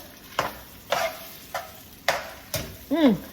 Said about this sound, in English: Just gonna stir.